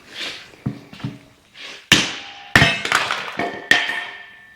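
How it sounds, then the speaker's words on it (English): A Fiskars Isocore 3-pound club hammer hitting a Kindling Cracker to split wood: several hard, ringing metallic strikes up close, irregularly spaced, with a few softer taps and knocks between them and no talk. "I'm using my Fiskars Isocore 3-pound club hammer."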